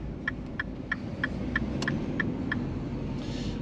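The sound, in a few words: car pulling away as the learner releases the clutch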